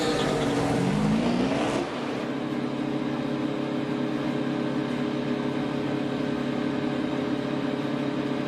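A NASCAR stock car pulls away down pit road at Homestead-Miami Speedway, its engine rising in pitch over the first two seconds, then settling into a steady, loud drone with a constant engine hum and broad race-track noise.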